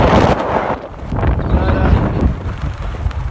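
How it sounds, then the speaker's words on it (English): Strong gusting wind buffets the microphone on a grey hilltop in East London, a loud, steady roar with rumbling low end that swells and dips throughout. "The wind is wild."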